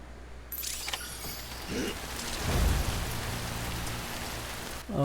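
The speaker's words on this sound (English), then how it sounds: "This rain is called the time fall. It is a combination of rainfall and time." Timefall rain in the video game Death Stranding falls as a steady, close hiss of rain on surfaces, with a brief low rumble partway through and no talk.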